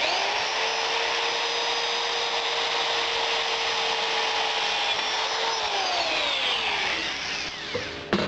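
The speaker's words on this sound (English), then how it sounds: "You just want to drill a hole through it." A drill bit bores through a penny clamped in a vise, giving a steady high-pitched grinding whine that holds for several seconds before the pitch drops and the cutting slows near the end.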